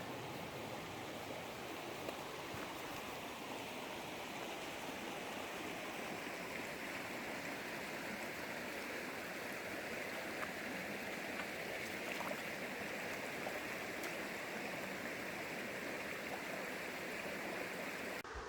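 Water rushes steadily along Coyote Creek, a constant broadband wash of flowing creek water heard close and continuous with no voices.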